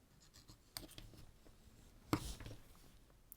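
A bone folder presses and rubs along paper card to crease it for a pop-up card, giving quiet, close scraping strokes punctuated by a few sharper taps and one firmer scrape.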